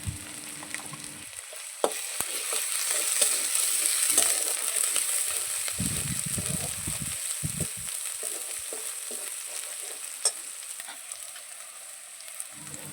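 Prawns sizzle steadily in a hot pan with turmeric stirred through them, a continuous close frying hiss broken by scraping stirs and a few louder clacks of the spoon, with no voices.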